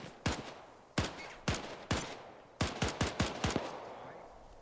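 Rifle fire in the World War II-era Arma 3 military simulation, eight sharp, loud shots with ringing tails, fired singly at first and then in a quicker cluster; no talking.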